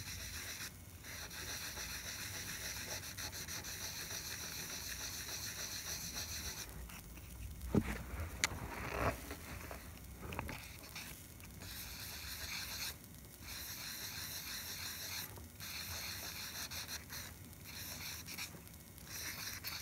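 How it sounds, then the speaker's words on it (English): Wet sanding car paint with 1000 grit sandpaper, a faint steady rubbing and rasping that continues throughout with a few louder scratchy strokes near the middle. "wet sand it with 1000 grit sandpaper to get it a little bit more smooth before I apply the clear coat"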